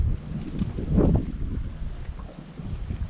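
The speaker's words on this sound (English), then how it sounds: "Wind is making things really difficult." Heavy wind from a cold front blows across open water while fishing from a boat, a low, fluctuating rumble buffeting the microphone with a louder gust near the start.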